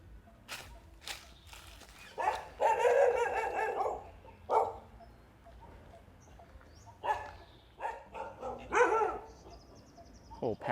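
Several dogs bark in scattered bursts at a Thai temple, Wat Ratchapradit Sathan, some barks overlapping into a noisy cluster, mid-distance and fairly loud over faint outdoor background.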